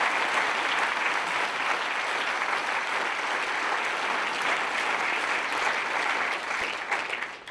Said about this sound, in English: if I could ask for a round of applause for this incredible team